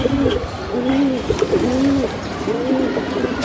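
Several domestic pigeons coo in repeated low, rolling phrases close by, one bird answering another in a loft kept for breeding and tournament flying, with faint background noise and no talking.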